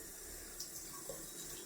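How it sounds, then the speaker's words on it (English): Cold water runs steadily from a tap, a soft continuous hiss with faint splashes, quiet and nearby. "Just wetting that with some cold water."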